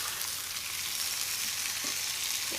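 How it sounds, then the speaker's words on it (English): Malaysian rendang curry sautés in a pan, giving a soft, constant sizzle at low volume with no voices present. "So just sauteing it here."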